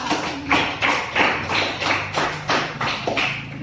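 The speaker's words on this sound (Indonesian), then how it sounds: "Tepuk tangan untuk kita semua." A classroom of primary school children claps together in a cheer-style applause, the claps falling in a rhythmic pattern of repeated bursts about every half second, loud and close.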